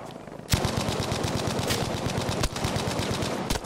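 Rapid automatic gunfire from a Bren gun in the video game Battlefield V, a loud, continuous burst of fast, evenly spaced shots with a few sharper cracks mixed in, close and dominating the mix.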